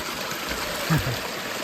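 Clean stream water runs through a forest at a spot used for drinking water and washing clothes, giving a steady, close, even rushing hiss that holds at one level throughout, with a brief faint low murmur partway through.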